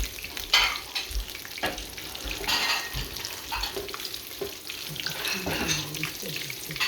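Green tomato slices fry in a pan, a close crackling sizzle with bursts of sputtering and occasional scraping or handling sounds, steady throughout and without speech.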